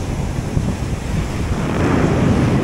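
Sea waves at a shoreline fishing spot, a continuous roar of surf mixed with heavy wind buffeting the microphone, swelling slightly louder toward the end.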